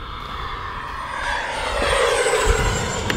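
An E-flite F-16 Falcon RC jet with an 80mm electric ducted fan in-runner motor on 6S power flies past, a steady loud whooshing whine that swells gradually over the full three seconds, with no talk.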